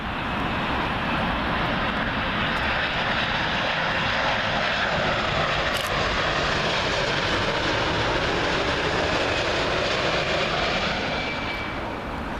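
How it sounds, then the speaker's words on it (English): An Air Canada Boeing 787 Dreamliner arriving from Calgary passes low on final approach to Heathrow runway 27L, a loud, steady jet roar with a sweeping Doppler whine that holds for the whole pass, no voices. "Air Canada 787 Dreamliner coming in from Calgary, Alberta, Canada"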